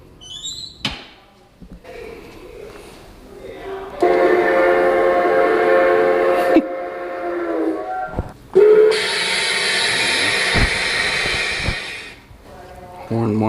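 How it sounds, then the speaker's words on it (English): Two short train horn blasts sound at a railroad museum, each a loud, rich chordal tone lasting a few seconds, heard close with handling noise between them. "Horn 1 short, horn 2 short."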